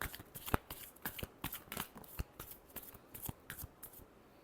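Tarot cards being shuffled by hand, a quick run of crisp riffling flicks and slaps in close succession, near and clear with no talking over it.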